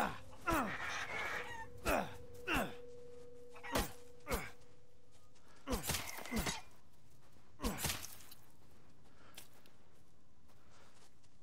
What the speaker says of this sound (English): gotta run over there and kill the goddamn chicken.